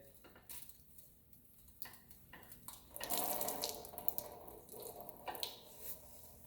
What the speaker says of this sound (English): You can see we have some oil draining out of our wonderful block.